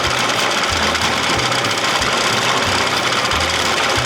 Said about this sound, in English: This thing never did sound that great when I popped it in reverse